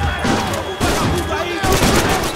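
Gunfire rings out in the video game Max Payne 3, a rapid string of loud, booming shots in several bursts with brief gaps, sounding close and heavy, with a voice speaking over the action.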